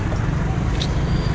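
Constant low rumble of road traffic and passing cars, heard as a dense, steady roar with a brief higher whoosh in the middle.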